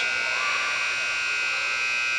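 A stuck scoreboard buzzer at a girls basketball game, a continuous loud, steady electronic drone held without a break.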